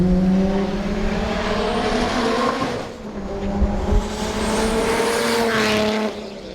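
An 800 HP Nissan R33 GTR engine revs hard and loud with a sustained high-pitched roar, dips briefly, then surges again with tire-squeal-like tones, close and continuous throughout.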